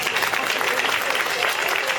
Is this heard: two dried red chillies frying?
no